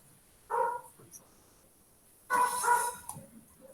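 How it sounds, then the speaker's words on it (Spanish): Dogs belonging to the downstairs neighbours in a small apartment bark in two short bursts, the second longer and louder, somewhat distant. "son perros. Yo vivo en un 2x4 y son de los vecinos de abajo."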